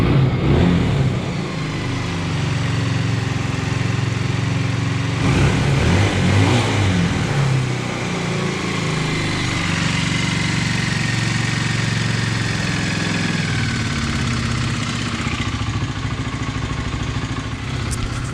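A Honda CBR 125 motorcycle engine, a little lean, runs steadily at a low idle, with a continuous close, even mid-toned hum and a slight blip of revs partway through.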